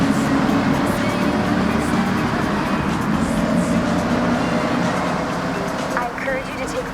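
A steady car engine roar in Forza Horizon 6 fills a long, rounded tunnel with a boomy, reverberant wash, continuous and loud throughout, with some speech-like sounds mixed in.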